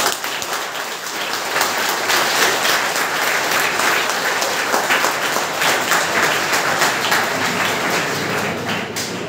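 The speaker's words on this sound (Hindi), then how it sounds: "एक बार अपने माता पिता के लिए जोरदार तालियां होनी चाहिए।" A school audience of students claps loudly and steadily for their parents, a thick, even roar of many hands that holds for several seconds with no voices over it.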